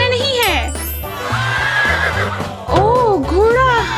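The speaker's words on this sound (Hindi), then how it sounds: "ओह, घोड़ा।" A horse whinnies during animal feeding on a farm, its long wavering neighs rising and falling near the start and again twice toward the end, loud and close, with people talking over much of it.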